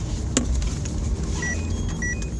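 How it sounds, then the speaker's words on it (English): A big lorry drives past, heard as a steady low engine rumble at moderate distance, with a few faint higher squeaks and tones over it. "Big lorry coming."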